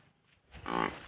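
A village buffalo lets out a single short, close moo that swells and fades within about half a second, with quiet surroundings before it and no talk.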